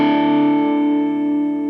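An electric guitar chord rings out through a distortion pedal on the crunch setting, one sustained, buzzing strum that slowly decays while staying loud and close.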